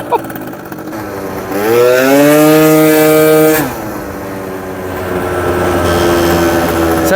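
A small booster moped engine runs nearby, revving up into a loud rising buzz for about two seconds before dropping back to an uneven, putting idle.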